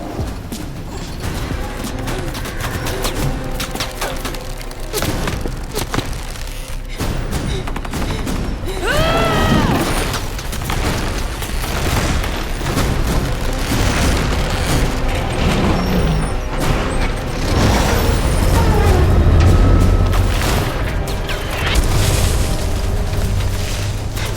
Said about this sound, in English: As the truck moves forward, the tree falls